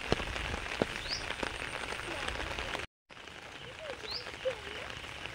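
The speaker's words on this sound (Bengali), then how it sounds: "এই যে এমন বৃষ্টি হচ্ছে, জল যাচ্ছে এই যে মাঠের দিকে।" Rain falling outdoors over a field, a steady close patter with scattered frog croaks and chirps, briefly cut by a short gap of silence midway.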